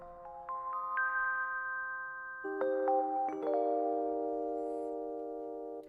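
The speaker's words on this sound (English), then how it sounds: "Done with the Rhodes piano. It sounds like this." A Rhodes electric piano plays a bright accent high up, with several clear, bell-like notes ringing one after another and then sustaining and slowly fading.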